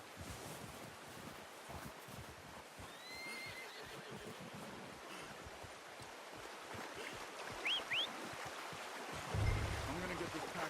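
A horse in Red Dead Redemption 2 gives a couple of short neighs against a soft wind-like outdoor ambience, with faint hoof sounds and a voice talking quietly nearby.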